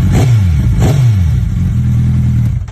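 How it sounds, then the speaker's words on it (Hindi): A KTM motorcycle with a Duke-style engine starts up and revs, two sharp throttle blips up front falling back into a steady, loud mid-pitched idle close by. "बिल्कुल आप बटन पे हाथ लगाती हो बाइक स्टार्ट हो जाती है"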